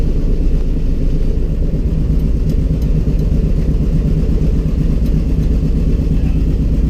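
One piston engine of a B-25 bomber idles with a steady, loud, low rumble that stays even throughout, with no talk over it.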